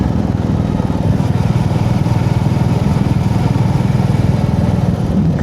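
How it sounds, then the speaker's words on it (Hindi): A motorcycle engine thrums steadily at close range on a morning ride up Tamini Ghat, its rhythmic pulsing beat loud and unbroken throughout. "रिदमिक आवाज़ आ रही है बाइक की।"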